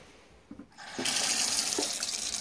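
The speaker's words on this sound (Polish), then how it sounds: "Do końca spuszczamy ze szlaucha wodę." Water rushes steadily out of a garden hose being drained at a wooden camping cabin in Germany. After a few soft knocks, the loud, continuous gush begins about a second in and runs to the end.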